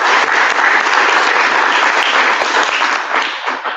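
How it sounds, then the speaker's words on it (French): Warm audience applause for an invited guest at a French gathering, a dense, steady wash of many hands clapping close and loud for nearly four seconds, tapering slightly at the end. "je vous invite pour le coup à l'applaudir chaleureusement"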